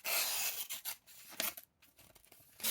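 A freshly stropped knife edge slowly slicing through thin receipt paper, heard up close as a series of crisp, hissing cuts and rustles with brief pauses, fairly quiet and without speech.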